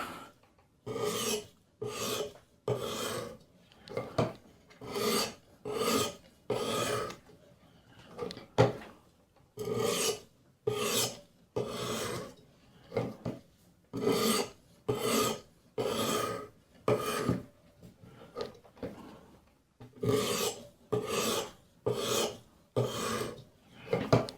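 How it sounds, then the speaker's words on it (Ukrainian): A Kershaw 7100BW knife with a CPM154 blade is drawn dry across an elbor sharpening stone under the stone's own weight, producing rhythmic rasping strokes in quick groups of three or four, close and clear with no speech. "і буквально на суху пару раз пройдемося під вагою каменя без тиску, навести риску і остаточно прибрати заусеницю."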